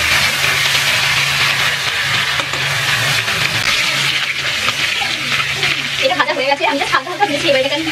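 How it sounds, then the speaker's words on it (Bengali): Chicken leg pieces fry slowly for rezala with a constant soft sizzle and a low steady hum beneath, and a few clinks or stirring sounds near the end while someone talks over it. "এটাকে আস্তে আস্তে ভেজে নিতে হবে, হালকা হালকা ভাজা হবে।"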